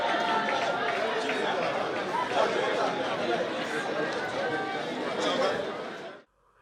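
A large crowd in an auditorium cheers and murmurs in a steady, dense roar of voices as a state governor arrives, staying loud throughout before cutting off abruptly.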